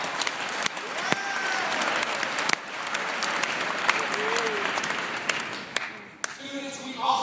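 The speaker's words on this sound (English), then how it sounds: "Give yourselves a big round of applause" A new-student day audience applauds, a broad steady wash of clapping with scattered voices and cheers mixed in, fading briefly before talk resumes at the end.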